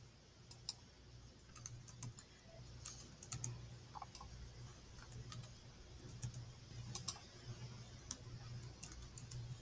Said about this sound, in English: In the middle section, I will type the answers.